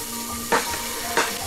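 Ginger garlic paste frying in a pan with oil and chillies for vegetable ghee rice, a steady sizzle broken by two louder bursts of stirring, close and without talk.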